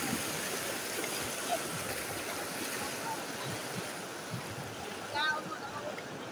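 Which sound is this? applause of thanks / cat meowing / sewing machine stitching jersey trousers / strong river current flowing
strong river current flowing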